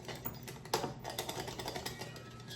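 Walnuts chopped with a knife on a cutting board for a Waldorf salad, a quick run of light, crisp taps and clicks at close range with one sharper knock, steady kitchen hum underneath.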